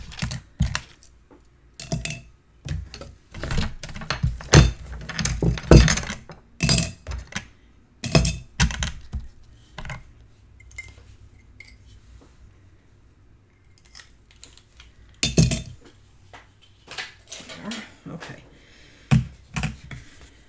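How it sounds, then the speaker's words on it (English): Scissors snip through scraps of chipboard in quick bursts of sharp, crisp clicks close by, separated by pauses of near silence. "just cutting scraps of chipboard here"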